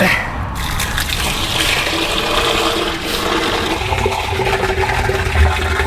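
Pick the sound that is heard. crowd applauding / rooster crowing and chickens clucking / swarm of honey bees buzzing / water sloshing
water sloshing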